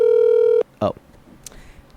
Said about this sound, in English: Was that my phone?